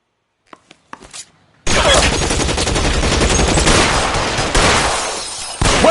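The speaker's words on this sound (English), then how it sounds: "Shots fired." A shootout erupts in the game L.A. Noire: a few sharp isolated shots, then a dense, loud barrage of rapid gunfire lasting several seconds before cutting off, with one more burst at the end.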